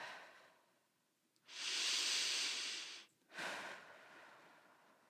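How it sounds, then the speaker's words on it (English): During a prenatal yoga practice, a close, quiet room carries a long, deep breath in followed by a slow exhale, then a second breath, each a soft airy rush with no talk. "Couple deep breaths."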